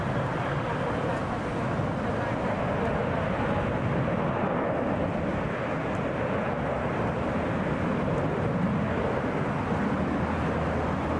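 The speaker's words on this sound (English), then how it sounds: "That's an Airbus A321." A Delta Airbus A321 arriving at Atlanta's Hartsfield-Jackson airport produces a steady broad jet roar, loud and unbroken, with wind noise over the microphone.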